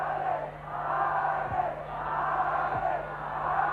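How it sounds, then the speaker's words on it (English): A large crowd chanting a player's name at a 1980 State of Origin rugby league match between Queensland and New South Wales, a distant, rhythmic, swelling roar that fills the stadium with no clear speech. "The crowd chanting, Artie, Artie, Artie."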